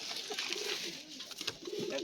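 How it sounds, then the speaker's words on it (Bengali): Domestic pigeons at a home loft coo softly and repeatedly, close by and fairly quiet, with no talking. "পায়রা খাড়ান দেখাচ্ছে, ছাড়ছি।"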